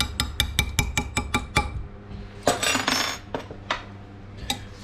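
Colorant is stirred into lure-making mix in a bowl, a utensil clinking against the bowl in a quick, loud, even run of close taps, then scraping and a few scattered knocks, with no talk.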